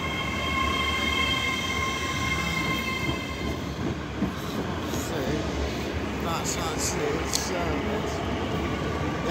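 A Class 802 Nova 1 passenger train rolls through Edinburgh Haymarket station with a steady rumble, wheel clatter and faint squeal, while people talk over it.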